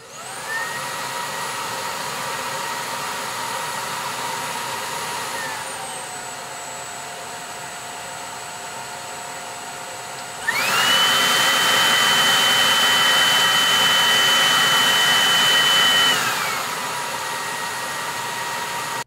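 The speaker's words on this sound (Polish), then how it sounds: "Kilka słów należy się jeszcze głośności pracy odkurzacza" A Dreame Z10 Station stick vacuum cleaner hums steadily with a high whine, drops to a lower setting, then jumps to a louder, higher-pitched mode before easing back.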